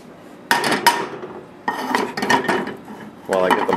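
Butter going into a frying pan while French toast is made at home: sharp metallic clanks and scraping of a utensil against the pan, in close, loud bursts with short pauses between them.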